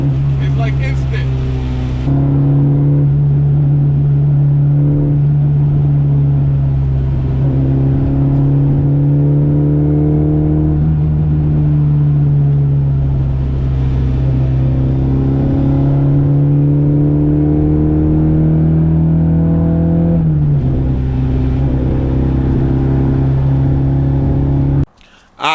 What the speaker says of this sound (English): when I press the gas, I don't know if you guys can pick that up on video, but you see how quick the response is?